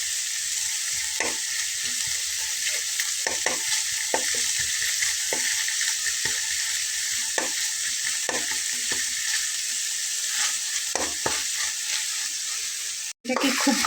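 Black cumin and coriander leaves fry in hot oil with a steady, bright sizzle throughout, broken by occasional scraping stirs and a brief cut near the end.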